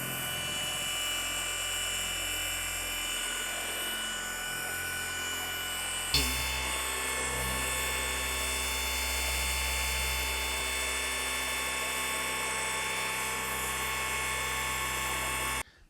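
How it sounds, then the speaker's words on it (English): A car polisher running at slow speed on a car's paint holds a steady, whining electric motor hum that shifts pitch partway through and keeps going until it cuts off abruptly at the end. "turn the polisher on slow speed."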